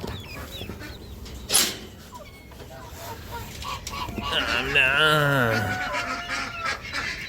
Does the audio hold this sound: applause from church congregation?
no